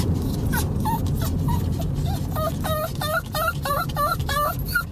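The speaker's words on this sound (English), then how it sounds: "Or maybe you just want to watch Mazzy freak out" Pomeranian dog whimpering and yipping in distress, a run of high, quick whines that grow more frequent toward the end, close by over a low background rumble.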